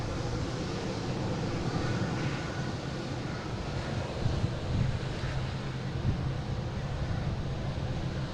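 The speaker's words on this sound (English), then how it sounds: "A321neo." An Airbus A321neo airliner at Boston Logan airport gives a low, steady distant engine rumble, faint and mixed with wind noise on the microphone.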